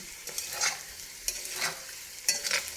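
Potatoes for a Telugu-style potato fry are stirred in a pan with a few scraping strokes over a soft, steady sizzle, close and without speech.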